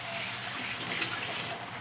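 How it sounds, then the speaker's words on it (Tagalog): Water poured into a cooking pan of pancit canton with vegetables, a steady broadband hiss and sizzle lasting throughout, close and fairly loud. "lagyan natin konti na tubig"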